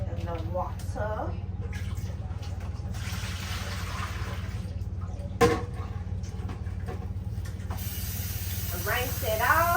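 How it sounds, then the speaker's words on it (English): Water poured out of a cooking pot into a kitchen sink gives a steady rushing splash lasting several seconds over a constant low household hum. "We are gonna dump out the water."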